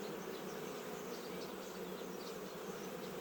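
A close, continuous hum of many honey bees buzzing together at a hive frame of brood, steady and droning without pauses or voices.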